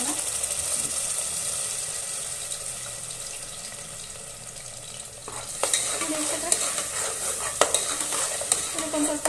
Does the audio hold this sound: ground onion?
yes